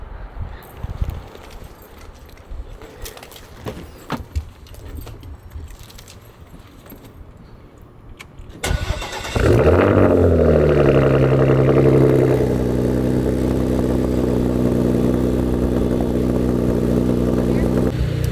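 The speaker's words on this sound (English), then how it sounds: "we are about to do a cold start on the cars, that way you guys can hear the exhaust" Scattered clicks and rustling, then a Porsche Macan GTS with an ArmyTrix aftermarket exhaust cold starts, cranking and roaring to life, settling into a loud, steady rumbling idle from the exhaust.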